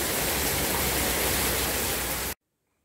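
Heavy rain pours down in Antalya as a dense, loud rushing hiss that stays steady and close, then cuts off abruptly into silence.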